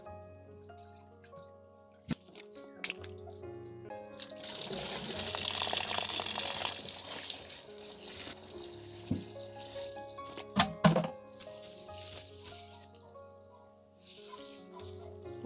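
Water from a bucket pours into a 16-litre backpack sprayer tank for herbicide, a steady rushing splash that swells and fades over several seconds, with scattered knocks and clunks around it.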